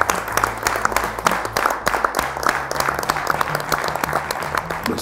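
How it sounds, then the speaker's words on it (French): Applause from a studio audience, a dense wash of clapping that holds steady and fairly loud for the whole stretch, with low voices faintly underneath. "je crois qu'on peut s'auto-applaudir"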